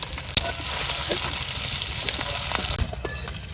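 Chopped onion frying with prawns in hot oil in a wok gives a steady, close sizzle throughout, with occasional clicks and scrapes from stirring.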